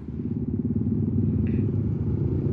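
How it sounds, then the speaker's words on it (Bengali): Motorcycles of a bike rally, the Baruipur riders, pass in front of a house, a steady loud engine rumble with clattering that holds throughout and swells slightly as they go by. "আসছে বাইকার গুলো এখান থেকে"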